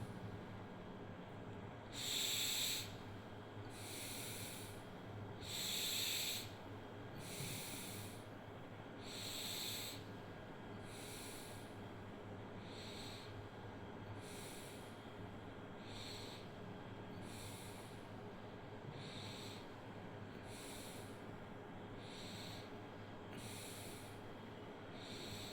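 Slow, quiet breaths in and out during a breathing exercise, forming soft airy hisses at regular intervals over a low steady background hum, with longer breaths later.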